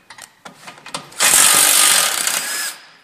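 Golf cart A-arm bolts on a Yamaha are worked loose with a 14 mm wrench and socket: a few sharp clicks and knocks, then a loud, close burst of whirring tool noise lasting about a second and a half.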